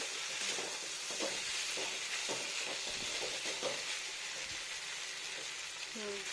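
Spice paste (masala) frying slowly over low heat in a pan, a steady broad sizzle with soft stirring scrapes throughout, close and continuous.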